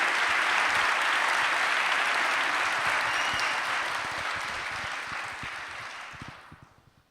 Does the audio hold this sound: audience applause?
yes